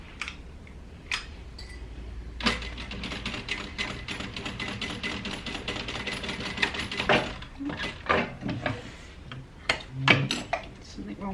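A sewing machine stitches the outside seam of a crossbody bag at 3/8 inch, a close, busy mechanical clatter in stop-and-start bursts with sharp ticks and handling noises over several seconds.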